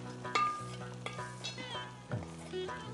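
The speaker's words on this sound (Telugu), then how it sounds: "సో మనం ఇందాక వేయించుకున్న జీడిపప్పు, పిస్తా అన్ని అందులో వేసేసి మిక్స్ చేసేసుకోవాలి" Roasted cashews and pistachios stirred into a cooking dish, a spoon scraping through the pan in several strokes and knocks over a continuous soft sizzle, close and clear with no talking.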